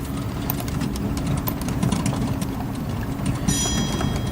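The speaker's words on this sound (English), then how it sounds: "I'll just put all the engines to idle at this point." Aircraft engines idle in Microsoft Flight Simulator 2020, a steady low droning hum holding even throughout, with faint ticking clicks scattered above it and a thin high whine entering near the end.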